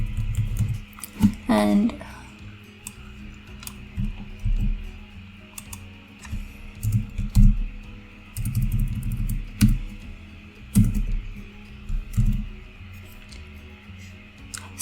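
Computer keyboard keys clatter in irregular bursts as text is typed into an HTML lesson, heard close and moderately loud under a man's ongoing speech.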